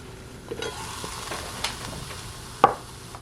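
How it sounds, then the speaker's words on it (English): Quiet, steady sizzling of chopped red bell pepper and vegetables cooking in a mini rice cooker pot, with a few soft stirring clinks and one sharper knock near the end. "I could actually hear the vegetables cooking."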